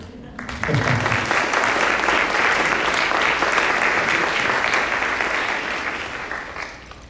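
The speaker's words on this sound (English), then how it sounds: "That's worth clapping about, I think." A keynote audience at a charity speaking event erupts into loud, dense applause that starts abruptly, holds steady for several seconds and gradually tapers near the end, with a voice briefly audible at the start.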